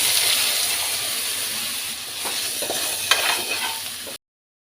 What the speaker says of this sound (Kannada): ಇವಾಗ ಇದಕ್ಕೆ ಪೊಟ್ಯಾಟೊ ಹಾಕ್ಕೊಂಡು ಫ್ರೈ ಮಾಡ್ತಿದ್ದೀನಿ.